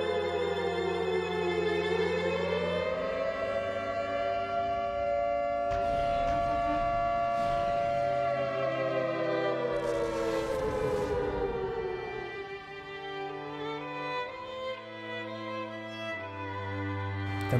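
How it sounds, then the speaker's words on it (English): A debris warning siren from the Xenoblade Chronicles video game, a long rising then sustained wailing tone with layered harmonics. It slowly bends in pitch over musical accompaniment, while brief noise bursts pass through the middle. "The debris siren."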